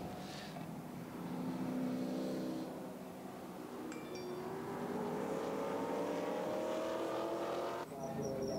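Maserati GT4 race cars during qualifying at the Nürburgring: a steady engine drone that rises gradually in pitch as the cars accelerate, heard at moderate distance and fairly faint.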